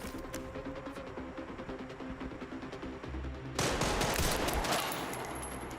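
Rifle gunfire in Resident Evil 9, a run of rapid shots crackling through the first half, then a louder, denser burst of blasts and rumble near the end, with no talking.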